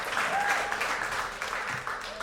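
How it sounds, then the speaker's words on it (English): An audience applauds a debate-show speaker, a steady wash of clapping at moderate level for about two seconds, with a few voices underneath. "Please give Murtaza a warm round of applause"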